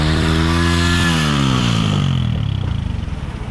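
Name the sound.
motorbike revving with stuck throttle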